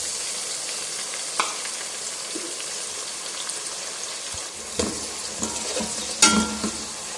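Tomatoes and green chilies frying in a pot with chicken pulao, a constant close sizzle with occasional clinks and scrapes of a spoon stirring.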